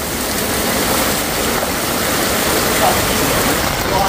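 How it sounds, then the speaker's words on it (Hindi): Floodwater rushes through a Hong Kong street during heavy rain, a loud, steady, broad roar of flowing water that continues without pause. "पानी पानी"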